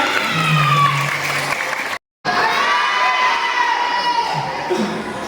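Crowd of schoolchildren and audience at a school Halal bi Halal event applauding loudly with shrill cheers and shouts over the clapping, briefly cut off midway before resuming just as loud.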